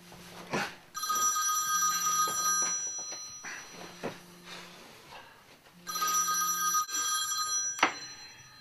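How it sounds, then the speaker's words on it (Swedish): An old-fashioned telephone bell rings in two long bursts with a pause between, fairly close and clear, along with a few soft knocks and thuds in a quiet room. "Vem är det som ringer så himla tidigt på morgonen?"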